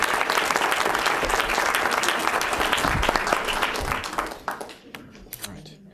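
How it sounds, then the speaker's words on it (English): Loud, dense applause at a school board meeting honouring a team of student players, sustained and full before thinning out to a few last scattered claps at the end. "everybody give them a round of applause"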